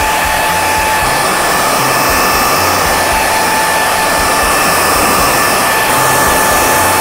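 A hair dryer blows steadily and loudly at close range while hair is dried in a salon styling session, a constant whooshing roar with a thin whine that holds for the whole stretch without pause.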